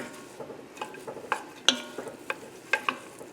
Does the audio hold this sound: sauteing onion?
yes